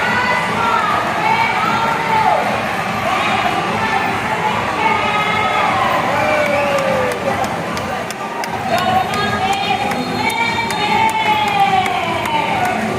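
Crowd at an elephant show in a Bangkok safari park, Thailand, cheering and clapping loudly and steadily throughout, with shouts and voices mixed into the dense applause.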